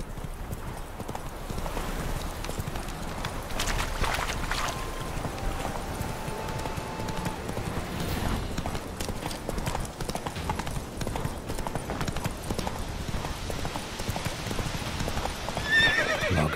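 Roach the horse gallops in The Witcher 3, a fast, steady clip-clop of hooves with a brief whinny, loud and continuous over game ambience.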